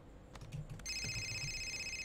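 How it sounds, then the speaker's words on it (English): In the video game Indigo Prophecy, a telephone starts a high, steady electronic ring partway through, after a few soft taps and clicks, and keeps ringing at moderate volume to the end. "There's a phone ring."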